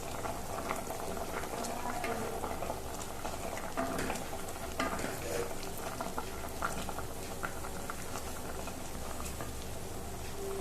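Mango pulissery curry bubbles at a rolling boil in a pan, a dense, continuous patter of popping bubbles with occasional stirring. The sound carries steadily throughout at a moderate level.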